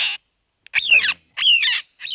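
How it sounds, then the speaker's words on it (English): Female antshrike squawking while held in the hand in the Amazon rainforest, three or four harsh, close, loud squawks separated by short pauses. "This is an ant shrike"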